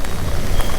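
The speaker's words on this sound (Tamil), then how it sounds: "சரியான மழை." Heavy rain during a KTM Adventure 390 motorcycle ride in Nagpur traffic, a loud, dense, continuous wash of rain and road noise with no talking.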